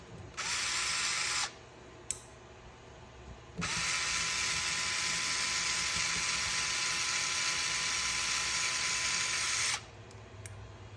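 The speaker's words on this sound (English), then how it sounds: "this electric screwdriver is a lifesaver" An electric screwdriver driving button head screws into the rear differential of a small RC crawler axle: a short high whirring run, a brief pause with a click, then a long steady whir of about six seconds, close and alone.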